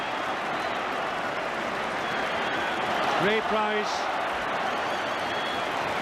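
A large crowd at a 1982 rugby league test between Australia and Great Britain applauds and cheers in a steady, broad roar, heard from a distance under a commentator's voice.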